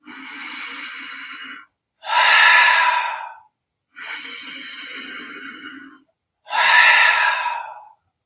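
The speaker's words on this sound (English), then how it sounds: "Start taking a deep inhale through your nostrils. Fill all the air in. Exhale loudly from the mouth." Deep breathing in a guided yoga session: two slow inhales drawn through the nostrils, each followed by a loud, forceful exhale through the mouth, close and clear with short pauses between.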